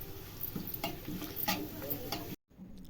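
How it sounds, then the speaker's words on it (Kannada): Half a tablespoon of cumin seeds fry in hot oil in a home kitchen, a steady close sizzle with soft stirring taps, cut off abruptly by a moment of silence near the end. "1/2 ಟೇಬಲ್ ಸ್ಪೂನ್ ಅಷ್ಟು ಜೀರಿಗೆ ಹಾಕ್ತಿದ್ದೀನಿ. ಜೀರಿಗೆ ಅಷ್ಟೇ ಚೆನ್ನಾಗಿ ಫ್ರೈ ಮಾಡ್ಕೊಳ್ಳಿ"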